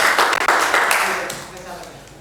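Applause for Bapak B at an Indonesian community gathering: a burst of crowd clapping that is loudest at the start and then thins out and fades over about two seconds.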